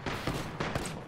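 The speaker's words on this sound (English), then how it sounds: "I am taking fire, friends." Gunfire in Apex Legends, three or four quick heavy shots in a short burst, fairly loud and close, with no talking.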